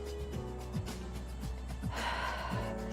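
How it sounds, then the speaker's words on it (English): Soft, relaxed breaths during a yoga class, several gentle airy exhales and inhales in an even rhythm over a low background hum. "I should be able to hear your exhales"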